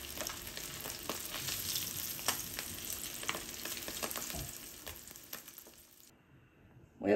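Breaded tilapia fillets fry in a pan with a continuous crackling sizzle. The sound holds fairly steady, then thins out near the end as a brief louder knock occurs.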